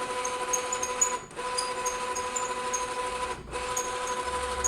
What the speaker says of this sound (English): It's gonna start to scan.